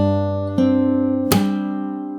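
Slow fingerstyle acoustic guitar: a held chord, a plucked note at about half a second, then a sharp percussive slap on the strings that lets the chord ring on, close and clear with no talking.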